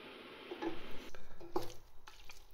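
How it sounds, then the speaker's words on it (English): Courgette chutney being stirred and pummelled in a pan, with soft scraping, squishing and occasional clinks of a spoon against the pot, close and fairly quiet. "I've just given it a really good stir and a bit of a pummel"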